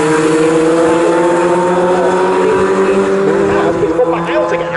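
Fun Cup race cars at Snetterton sweep past as the leading pair exits the final corner, a loud sustained engine drone with steady pitch bands, commentary speech over it throughout.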